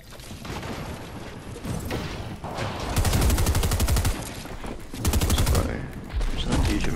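Repeated shotgun blasts and rapid gunfire from a first-person shooter video game, loud bursts in clusters with brief pauses between, while a player talks over the action.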